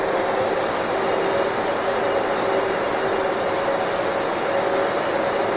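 A Cooper-Bessemer GMXD propane compressor runs continuously, a loud, steady broadband roar with a faint mechanical hum underneath, unchanging throughout and heard close.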